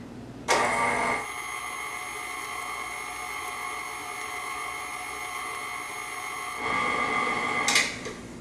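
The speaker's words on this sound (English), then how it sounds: "now I'm going to get my mixer ready to go, and I'm going to just turn on a low setting and cream together that butter and sugar" Electric mixer on a low setting creaming butter and sugar for snickerdoodle dough, a steady close motor whine with a brief louder surge at start and end, running alone for several seconds.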